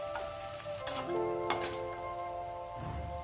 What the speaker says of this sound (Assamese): নিমখখিনি লৈ এইখিনি লৰাই লৰাই মই ভাজি থাকিলোঁ।